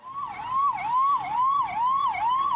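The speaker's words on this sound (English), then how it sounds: "watch more and more ambulances arrive with COVID-19 cases" An ambulance siren arrives at a hospital during the COVID-19 pandemic, wailing loudly and steadily in repeated rising-and-falling sweeps, close and continuous with faint road noise beneath.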